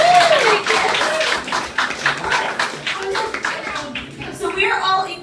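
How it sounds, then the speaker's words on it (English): Comedy-club audience clapping on cue during a stand-up set about debt, a scattered burst of hand claps from many people, with a voice talking over parts of it. "I want you to clap if you're in debt"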